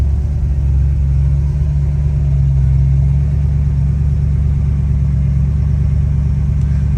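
A 1971 Ford Mustang 302 V8 idles steadily with a deep, low rumble that holds an even level throughout, with no revving.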